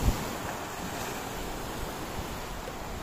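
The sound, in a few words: ocean waves on a windy beach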